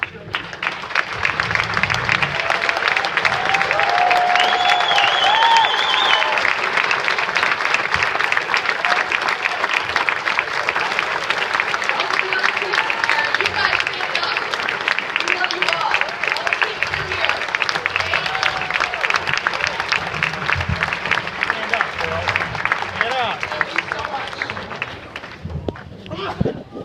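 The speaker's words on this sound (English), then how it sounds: "I'd like to give you a round of applause." An audience at a charity gala breaks into sustained, loud applause that fills the room for nearly half a minute, a dense wash of clapping that fades at the end.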